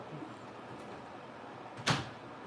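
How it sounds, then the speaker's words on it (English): A door swings shut once in a single short thud, standing out clearly from quiet room background with no talk over it. "Close that door."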